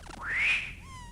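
A cat in the video game Old School RuneScape gives a single drawn-out meow that rises and then falls, heard clearly over quiet game background sound.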